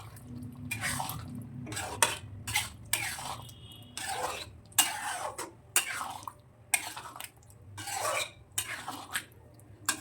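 Paneer with onion, tomato and capsicum being stirred and mixed in a kadhai, with repeated scraping and clattering strokes in an irregular rhythm over a low steady background hum, no voices.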